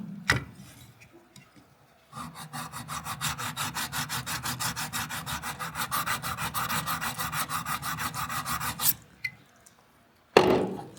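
Steady rhythmic rasping strokes of a grafting knife being sharpened, about forty quick even scrapes running for seven seconds, close and clear, with a few louder knocks before and after.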